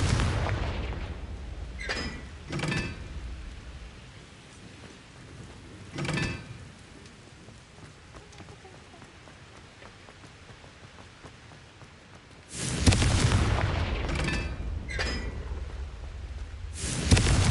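Fiery Confringo spell blasts in a Hogwarts video game: a few sharp booming bursts early on, then a sustained roaring barrage near the end, with quieter rumbling between.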